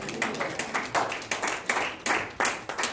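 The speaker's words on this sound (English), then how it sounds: "Somebody clap your hands and give God glory." A church congregation claps hands in a quick, loose rhythmic run of about a dozen claps, fairly distant and reverberant, with no talk over it.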